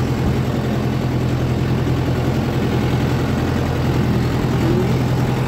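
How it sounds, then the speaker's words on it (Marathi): A tractor engine runs steadily and loud throughout while riders sit aboard on a track near Kolkewadi fort, a continuous low drone with no break or voices. "आता आम्ही अशा शेवटी ट्रॅक्टरवर बसून चाललेलो आहे."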